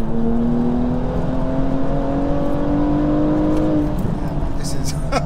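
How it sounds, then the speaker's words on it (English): A tuned 500bhp wide-body BMW M235i revving hard while driving, loud rising engine drone heard from inside the car, with a gearchange dip near the end and occupants talking over it. "it sounds like a proper tuned race car"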